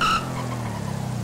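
Tires squeal briefly as a car brakes hard during a street race in GTA V, a sharp screech at the start giving way to a low, pulsing engine rumble.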